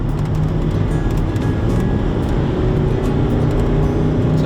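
A Range Rover TDV8 diesel engine pulling hard under full throttle on a straight road, a dense, steady low roar heard from inside the vehicle, continuous and loud throughout.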